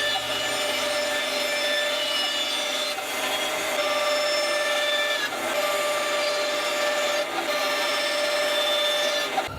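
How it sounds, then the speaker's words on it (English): A bandsaw cuts wooden pieces apart for a homemade guitar bridge jig, a continuous close whine with a steady high ringing tone, with slight dips as each cut ends and the next begins. "I can just cut those pieces apart on the bandsaw"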